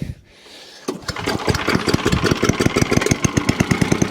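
A petrol engine on an Allen chipper shredder fires up after a brief quiet moment, then settles into a steady, close, rapidly pulsing run, loud and unaccompanied by talk.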